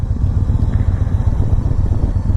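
A deep, throbbing V-twin engine on a 2017 Victory Magnum motorcycle idles up close with a low, uneven rumble and some mechanical clatter throughout.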